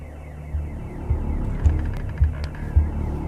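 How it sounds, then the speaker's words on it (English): An alarm going off inside the video game The Occupation, heard as a low throbbing drone with a pulsing swell repeating about every half second, steady and fairly loud with no speech over it. "This alarm could have been easily avoided if we'd paid attention to our surroundings."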